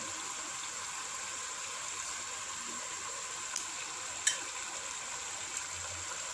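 Goat trotters frying in a pan, giving a quiet, steady sizzle with a few faint clicks and pops.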